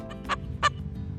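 Two short, loud clucking calls from a chicken, about a third of a second apart, over a low steady background hum.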